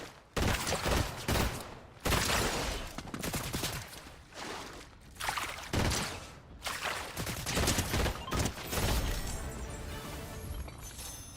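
A pistol fires rapidly in the game Fortnite, with dense, loud bursts of gunshots and impacts separated by brief pauses and no voices.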